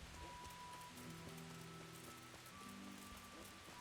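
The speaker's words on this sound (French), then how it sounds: "la pluie elle est vraiment bizarre parce que j'aime bien l'effet" Rain in the medieval open-world video game Kingdom Come: Deliverance, a soft continuous patter over a quiet background with faint low tones.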